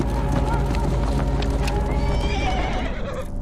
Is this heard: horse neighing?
yes